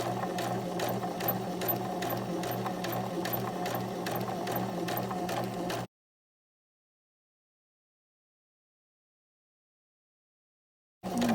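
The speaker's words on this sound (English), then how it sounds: "I'm gonna do my best to sew that 1/2 inch seam allowance" Sewing machine stitching a 1/2 inch seam on a fly zipper, a steady close rhythmic whirring hum with regular needle ticks, running about six seconds, then silence before it briefly starts again.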